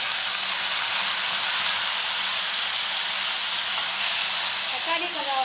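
Chopped tomatoes and onion sautéing in a pan for chutney give a steady, loud broadband sizzle with soft stirring, continuous throughout and with no talk over it.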